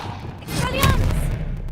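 Expelliarmus spell cast in the video game Hogwarts Legacy: a brief whooshing magical burst with a bright shimmering sweep and a low thump, lasting under two seconds.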